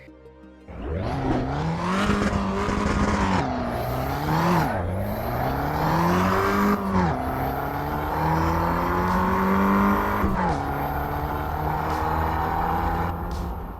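Racing car engine from Assetto Corsa EVO revs hard, climbing through gears with rising harmonic whine and brief drops at each shift, loud and close with no talk.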